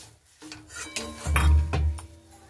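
Ingredients with chopped coriander leaves are stirred and mixed in a pan, giving a few close scraping and clinking strokes of a utensil against the pan, the loudest burst in the middle.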